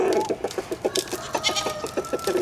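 Homestead chickens cluck in a quick, uneven series of short, close calls with a few louder squawks, while other fowl such as turkeys and emus may be nearby.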